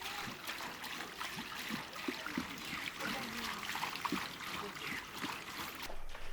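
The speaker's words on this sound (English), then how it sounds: "The sap is strained through a large strainer and poured in." Date palm sap poured through a large strainer, a steady soft trickling and splashing of liquid heard close up, with low, faint background sounds underneath.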